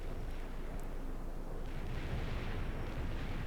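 A fuel air bomb strike in the real-time strategy game World in Conflict: a dense, continuous roaring rumble of explosions and battle noise, heavy and sustained throughout with no clear separate blasts.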